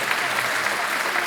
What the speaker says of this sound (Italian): vi ringrazio di tutti questi applausi